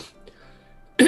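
A single sharp, loud cough bursts out at the very end after a near-quiet stretch, close to the listener, with only faint background rustle before it.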